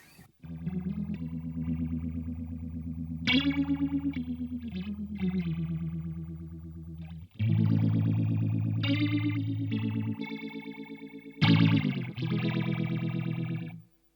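Electric guitar played through a boutique modulation pedal with a heavily watery, chorus-like warble, sustained chords and picked notes ringing continuously with a brief break midway, loud and alone.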